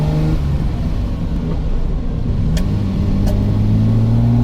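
A green Ferrari 330 GTC drives along with a steady, close engine drone, its pitch rising gradually as it accelerates, with no talking over it.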